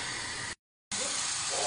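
A kitchen stove flame hisses steadily under a pot of banana peels and water, a broad, even rushing noise that cuts out briefly and then resumes just as loud.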